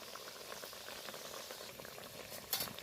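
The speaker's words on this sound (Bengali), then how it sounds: "একদম লাল করে হালকা আঁচে আমি নেড়ে চেড়ে ভেজে নেব" Mung dal and wheat flour snacks deep-frying in hot oil over a low flame while being stirred, a steady close bubbling sizzle with a brief brighter splash near the end.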